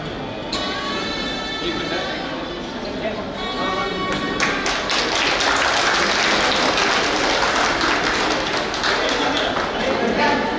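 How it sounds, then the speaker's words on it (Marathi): An audience claps throughout. The sound is thin and scattered at first, then swells into dense, loud applause about halfway through, and the crowd keeps clapping steadily to the end while voices call out over it. "अरे जरा जोरात टाळ्या वाजवा."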